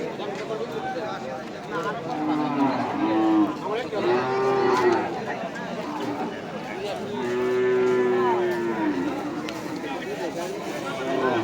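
Native cattle moo repeatedly at a busy cattle market in Kishoreganj, several long low calls, some near and some farther off, over a crowd's murmur and voices talking.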